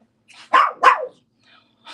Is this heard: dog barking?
yes